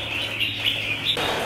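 A red-whiskered bulbul gives a few short, bright chirps close by over a low steady hum, with no one speaking.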